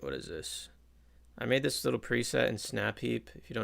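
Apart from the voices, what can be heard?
No everyday noises stand out.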